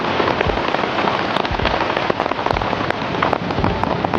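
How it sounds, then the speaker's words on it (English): Light drizzle patters steadily onto surfaces at a wild car campsite on a windy day, a dense, even hiss of fine drops with occasional sharper ticks, continuous and close throughout. "a fine drizzle came uninvited, swept in by the howling wind"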